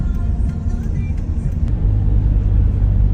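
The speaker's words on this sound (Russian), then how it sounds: "Вот еще одна пробка на заправку. Все машины стоят в очереди, чтобы попасть в эту заправку." Cars idling in a queue for petrol at a filling station during a fuel shortage in Mongolia, a steady low engine rumble close by that swells slightly toward the end, with no talk.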